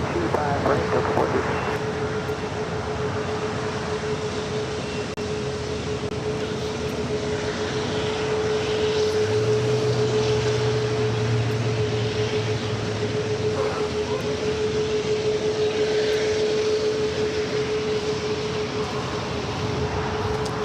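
A United airliner takes off from runway 25 right at LAX, its engines building to a loud, sustained roar with a steady whine, heard from nearby over continuous background rumble.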